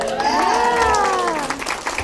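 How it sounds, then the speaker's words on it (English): An audience claps at a Legend of Korra convention panel at HavenCon 2015. The applause is steady and close, with a voice speaking over it through the short stretch. "Give us those good applause, and then PJ Byrne"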